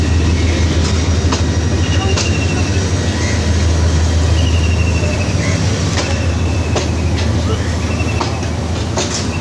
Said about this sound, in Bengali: অনেক বড় মাপের একটি ট্রেন, আকারে অনেক বড়, ছুটে চলেছে তার নির্দিষ্ট রেখা অতিক্রম করে।